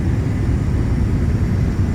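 A Premier 1A light jet taking off from Las Vegas in a flight simulator, a steady broadband engine roar with heavy low rumble, loud and continuous with no voices.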